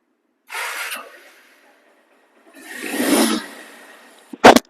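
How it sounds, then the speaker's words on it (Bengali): A second-hand double-disc motorcycle's engine roars in two separate revving bursts a couple of seconds apart, followed by a short, sharp, loud blip at the end, with no talking. "দেখেন সাউন্ড কাকে বলা হয় নতুন আর এই বাইকের সাউন্ডের ক্ষেত্রে কোনো পার্থক্য নেই"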